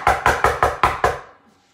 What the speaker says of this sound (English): came knocking on the door